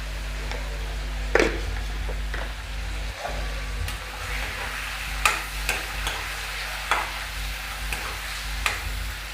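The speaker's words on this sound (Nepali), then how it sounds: "र मासुलाई लगभग रातो हुँदासम्म यसलाई यत्तिकै भुट्ने" Broiler chicken meat seasoned with turmeric and salt is stirred and fried in a pan over low heat, giving a steady sizzle broken by several sharp scraping and clinking stirs.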